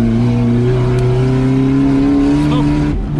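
An off-road car at a national off-road championship revs hard under throttle, a loud, sustained engine note with steady harmonics climbing slightly before dropping off near the end.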